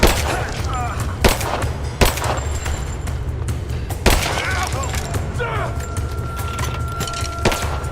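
Gunfire in the Rise of the Tomb Raider video game: sharp individual shots and short bursts ring out at irregular intervals, some close and loud, others more distant, over a busy combat backdrop with shouting voices.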